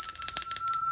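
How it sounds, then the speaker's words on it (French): A bell rings in quick, bright repeated strikes, about a second of ringing at moderate loudness with no talk over it. "on a commencé très tard pour sonner la cloche"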